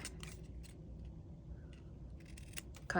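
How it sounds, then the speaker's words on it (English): Scissors snip through paper to shape pointy palm-leaf tips for a tropical craft, giving a few crisp close cuts separated by short pauses in a quiet room. "So now we are going to make the little pointy tips. So we're just gonna cut"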